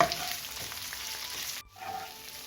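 Sliced onions and curry leaves sauté for a chicken stew with a close, steady sizzle and soft stirring. The sizzle drops out briefly near the end, then resumes quietly.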